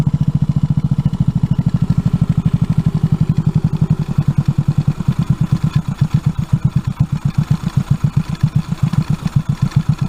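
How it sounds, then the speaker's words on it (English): A Honda NAVI motorcycle engine idling low during carburetor adjustment, a loud close steady putter with even rapid pulses that quicken slightly partway through, with no one talking. "Set your carb to low idle."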